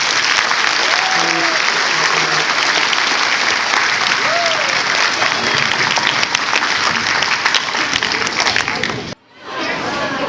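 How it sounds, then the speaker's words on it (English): A middle school audience at a celebration applauds loudly and continuously, dense clapping filling the room for about nine seconds before cutting off abruptly, then picking up again. "can everyone give a round of applause to yourselves"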